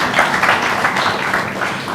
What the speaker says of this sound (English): Again, a big round of applause for that.